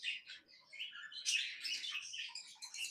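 Lovebirds in an aviary colony chirp in quick overlapping bursts of high twittering calls, several birds at once, moderately near and steady.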